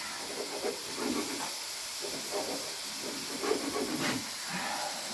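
Mince simmers in a pan, giving a soft steady hiss and sizzle with faint bubbling pops rising and falling, close and moderate in level, with no talk over it.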